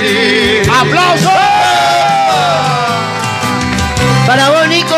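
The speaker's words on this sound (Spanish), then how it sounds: "¡Aplauso!" A crowd at a tribute event for Nico Machado cheers and whoops loudly, with overlapping shouting voices sustained throughout, close and boisterous.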